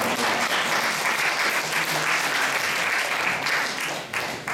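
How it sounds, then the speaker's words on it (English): Audience applause as a tribute to Martin Luther King at an Ethical Culture gathering: dense, sustained clapping from a crowd that stays loud and steady, then eases slightly near the end. "you can clap for Martin Luther King or for me"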